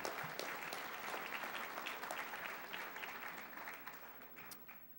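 An audience at a Rotary Club centennial celebration event applauds steadily and fairly far off, and the clapping fades gradually toward the end.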